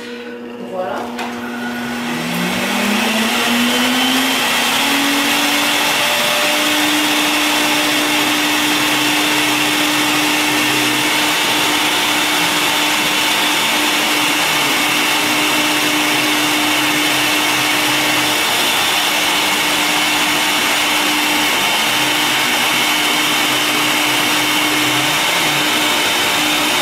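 A SIRENA System water-filter vacuum cleaner, a Canadian-made dust-mite remover using a water basin, starts up and runs with a steady loud whine and a rising motor tone, continuous and close throughout.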